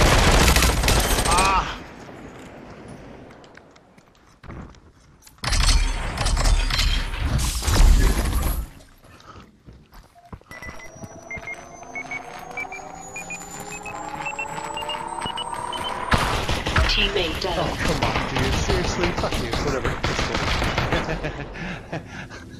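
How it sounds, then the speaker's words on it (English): Gunfire in the Population: ONE VR battle game, with repeated loud bursts of automatic fire and heavy volleys between quieter gaps, up close and sometimes mixed with crashing impacts. "Me and him are just running off buildings, shooting each other in the air"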